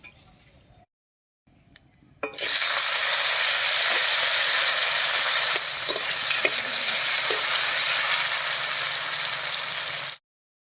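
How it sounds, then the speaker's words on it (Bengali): Chopped tomato drops into hot oil in a pan with a sudden loud burst of sizzling, then a steady, close frying hiss with light stirring clinks that runs unbroken for about eight seconds before cutting off. "এবার এর মধ্যে দেবো একটা টমেটো কুচি"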